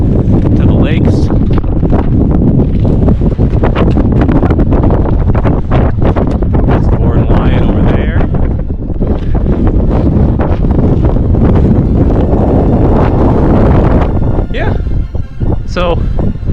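Strong gusts on Rendezvous Peak, up to about 35 mph, batter the microphone with loud, continuous low roaring buffets. A voice is partly heard under the din.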